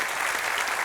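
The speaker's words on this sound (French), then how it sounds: "on peut bien vous applaudir aussi." An audience applauds schoolchildren from a French elementary school, a dense, steady wash of clapping hands heard alone for under a second.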